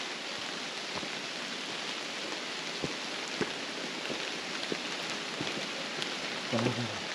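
Rain falling in a mossy rocky valley beside a stream, a soft steady wash with scattered distinct drips, faint and even, with a short murmur of voice near the end.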